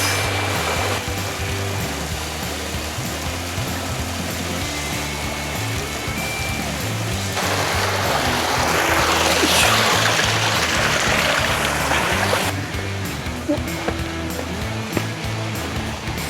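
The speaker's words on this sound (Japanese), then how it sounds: "ここは滝を遡上していきます" Water rushes steadily down a waterfall along the rocky Jigokudani ravine route on Mount Rokko, a continuous close hiss that swells noticeably in the middle section before settling back.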